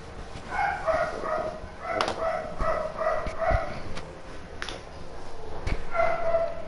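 A neighbour's dog barks loudly in a steady series of repeated yaps, somewhat distant, heard over a continuous game-like background with a few sharp knocks.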